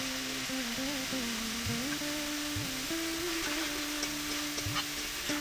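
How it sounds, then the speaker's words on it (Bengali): Kohlrabi pieces fry in oil in a wok, a steady close sizzle with scraping stirs and clinks, tonal background music running underneath. "ওলকপিগুলো, সেগুলোকে ভালোভাবে ধুয়ে রেখেছিলাম, সেগুলোকে দেখো এখন কড়াইতে দিয়ে ভালোভাবেই কিন্তু আমি ভেজে নিচ্ছি।"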